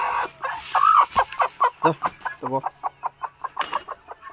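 A local black hen clucks close by at a poultry farm in Guwahati, Assam, in a quick, steady series of short, regular clucks, growing more rhythmic toward the end.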